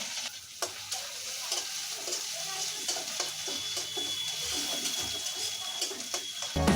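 Chopped onions fry in a pan that already held fish, for a Bangladeshi mashkalai dal, giving a steady close sizzle broken by soft scraping stirs throughout.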